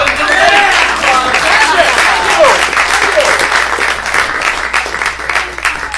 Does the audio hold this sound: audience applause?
yes